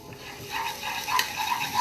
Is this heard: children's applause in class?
no